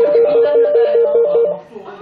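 A telephone rings with a rapid warbling trill, two alternating tones pulsing quickly for about a second and a half before stopping.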